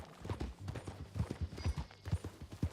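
Horse hooves clip-clop in a quick, steady rhythm as a rider travels in Red Dead Redemption 2, fairly close and moderately loud, with no voices over them.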